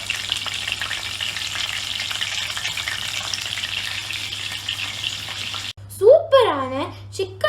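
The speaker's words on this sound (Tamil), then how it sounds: "இது மாதிரி நம்ம எல்லாத்தையும் ஃப்ரை பண்ணி எடுக்க போகிறோம்." Chicken lollipops deep-frying in hot oil give a steady, close sizzle that runs unbroken, then cuts off near the end as pieces are lifted out and a voice speaks over the last seconds.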